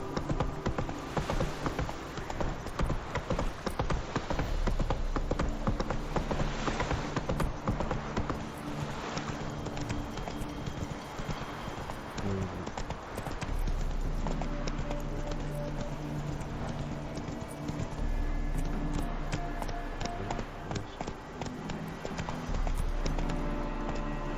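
Galloping horse hooves in The Witcher video game, a rapid, continuous clip-clop rhythm close up and loud, running throughout over low game ambience.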